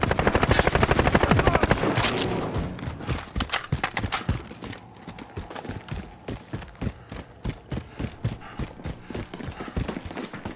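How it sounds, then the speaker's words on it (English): An enemy chopper gunner helicopter in Call of Duty multiplayer: loud rapid rotor-like thumping and bursts of heavy gunfire, dense at first, then continuing as a steady rhythmic pounding. "Enemy chopper gunner on approach."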